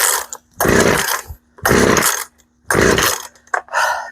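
A Poulan chainsaw is pull-started at half choke, giving three loud, close rasping bursts, each about a second long, with a shorter sputter near the end.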